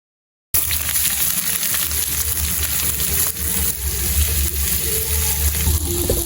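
Bay leaves, cardamom, cloves and mace sizzling in hot oil in a kadai: a loud, dense, continuous crackling hiss that starts abruptly and holds steady to the end.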